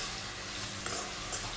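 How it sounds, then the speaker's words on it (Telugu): Onions and curry leaves frying in a pan, a soft, steady sizzle at moderate distance with faint stirring sounds and no voices. "కర్రీ లీవ్స్ యాడ్ చేసిన తర్వాత ఆనియన్ అన్నీ కూడా గోల్డ్ కలర్ వచ్చేంత వరకు ఫ్రై చేసుకోవాలండి."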